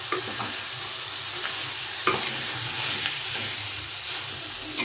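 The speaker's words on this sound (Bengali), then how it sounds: "এখন এটার মধ্যে সামান্য একটু পানি দিয়ে তারপরে আবার এটাকে কষিয়ে নেব।" Rohu fish roe and tomato are sautéed in a frying pan, giving a loud, continuous close sizzle. A spatula scrapes and taps at the pan every second or so.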